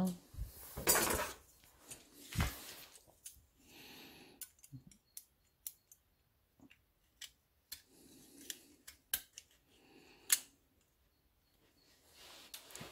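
A utility cutter scrapes and picks at a gasket on a two-stroke Zama or Walbro carburetor, making faint, scattered close clicks and scrapes with quiet gaps, after a brief louder clatter at the start.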